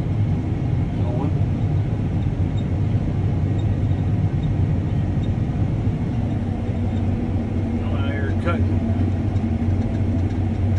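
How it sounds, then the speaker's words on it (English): A farm baler engine runs steadily nearby during a wheat harvest, a loud continuous low rumble and drone that never lets up, with someone talking briefly over it. "My brother is just getting the baler going."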